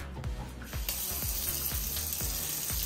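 Tap water runs steadily from a faucet into a cup, a continuous close splashing hiss with a few soft knocks and clinks, no voices.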